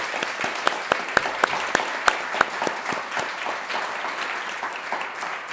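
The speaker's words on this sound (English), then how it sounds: "We can definitely give you a big round of applause." An audience claps steadily, a dense burst of applause that starts strong and gradually thins out.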